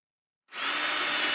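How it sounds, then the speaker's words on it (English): A power drill starts abruptly and bores steadily into a guitar body to make a pilot hole in a luthier's workshop, giving a loud, continuous whirring grind with no talking. "let's put a little hole in there and pilot hole and drill that down"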